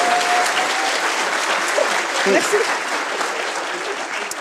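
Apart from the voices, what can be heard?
audience applauding a volunteer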